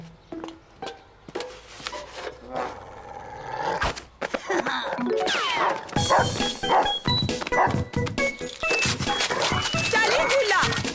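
A pet dog barks repeatedly, with yips and whimpers, loud and close in a house as a woman calls out over it; busy, overlapping bursts grow denser toward the end.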